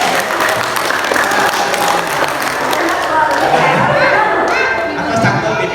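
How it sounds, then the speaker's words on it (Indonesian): Mothers at a kindergarten parenting seminar applaud loudly, a dense wash of clapping mixed with chatter and voices from the room, continuous through the moment. "Tepuk tangan dulu yang meriah bunda."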